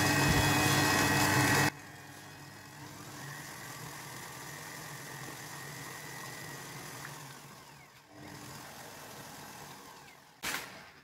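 A stand mixer starts up and runs steadily, mixing brioche dough made with yogurt. The loud burst at the start drops to a constant motor hum with faint whirring, and a brief clatter comes near the end.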